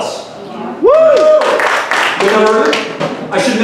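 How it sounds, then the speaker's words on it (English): Applause and scattered clapping from the audience at a live comedy show, filling the room and swelling after a loud whoop, with a voice speaking over it. "A round of applause."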